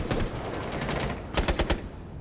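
Rapid automatic gunfire in Rainbow Six Siege, a fast burst of shots followed by a short pause and a second tight burst, loud and close.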